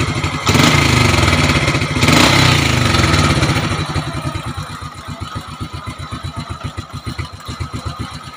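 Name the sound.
motorcycle engine idling during carburetor tuning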